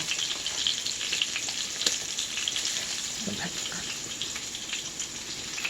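Vegetables, likely Brussels sprouts and okra seasoned with garlic salt and pepper, stir-frying in a pan with a soft, steady sizzle and occasional faint stirring clicks, fairly quiet and without talk.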